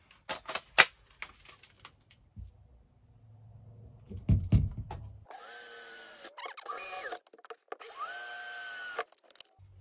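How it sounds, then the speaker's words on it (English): Cordless drill running in short bursts while fitting a curtain rail inside a Volkswagen Vanagon T3 camper van, with loud whirring spells and clattering handling noises close by. "I'll just drill the rest of them and then put the screws in this one"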